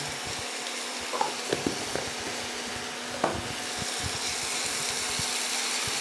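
Ginger garlic paste fries in oil in a pan with a steady, close sizzle, broken by a few light clicks of stirring.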